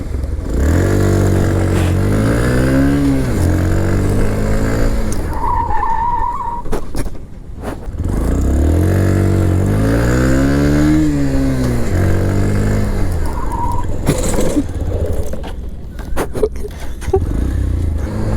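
Loud engine of a Bajaj Platina 110 motorcycle without ABS revving and rising in pitch, twice, each run ending in a harsh tire skid and scrape as it brakes hard.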